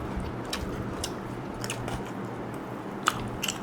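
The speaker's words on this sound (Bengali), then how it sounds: "সেই দেখুন এখন আমরা রাত্রে 2টোর সময় খাচ্ছি, সেই এনজয় করে করে স্বামী স্ত্রী দুজনে খাচ্ছি।" Chewing on Kerala-style chicken fry with paratha late at night, close soft crunches and squishy bites repeating at a relaxed pace against a quiet room background.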